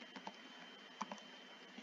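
Keys tapping on a computer keyboard while entering a command, a few soft scattered clicks at close range over a steady background hum.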